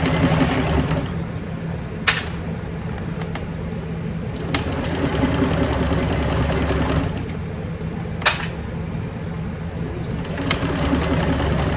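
A sewing machine with a walking foot stitches a handbag seam at a three-eighths-inch allowance, a steady close mechanical whirring broken by brief pauses and a couple of sharp clicks as stitching stops and restarts.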